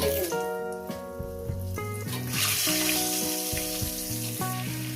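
Potatoes fry loudly in hot oil seasoned with salt and turmeric, giving a continuous close sizzle, with tonal music-like hum running underneath.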